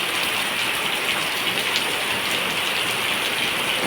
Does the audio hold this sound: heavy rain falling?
yes